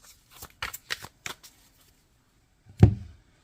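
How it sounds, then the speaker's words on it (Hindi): Tarot cards riffled and shuffled in a quick burst of soft papery flicks, then a pause and one sharper slap as a card is drawn and laid down, close and alone without talk. "अब मैं लास्ट कार्ड निकालूंगी"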